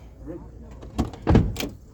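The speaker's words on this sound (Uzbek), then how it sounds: "aka eshikni ozgina yopib turasizmi?" A car door is shut with a firm thud at a market in Chiroqchi, Kashkadarya, a single close impact followed by a brief rattle, with faint talk and background activity around it.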